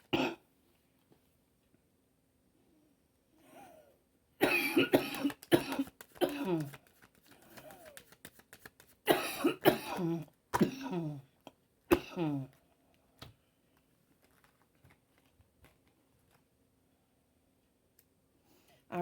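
A coughing fit breaks out in quiet indoor surroundings, with several harsh clusters of close coughs and throat clearing spread across the stretch and long near-silent gaps between them.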